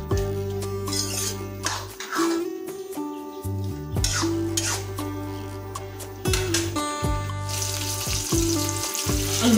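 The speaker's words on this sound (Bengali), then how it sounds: "কপিটাকে আরও মিনিট 7 ধরে কষিয়ে নেব" Cabbage and potato sizzle and fry steadily in a kadai over a raised gas flame after water has been added, with close, continuous crackling, some stirring and occasional clinks of utensils.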